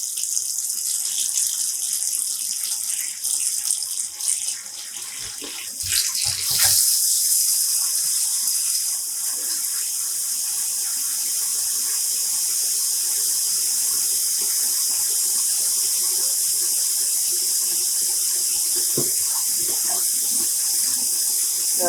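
Tap water runs steadily into a sink while dyed yarn is rinsed, a loud continuous gushing hiss with brief splashing and handling noises early on.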